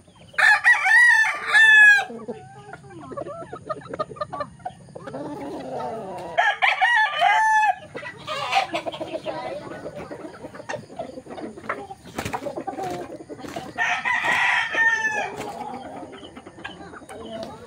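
A rooster crows loudly and close by several times, with clucking and other birds between the crows, plus a few bumps and rustles.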